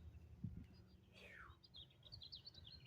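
Small birds chirp and tweet outdoors in an unspoiled coastal setting near the ocean, with a brief sweeping call and a run of high, quick chirps over a steady low background rumble.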